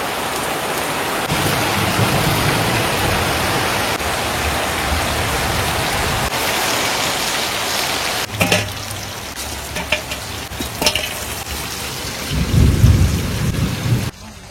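Steady rain falls on a village home, with a deep thunder rumble near the end and some clattering knocks in the middle.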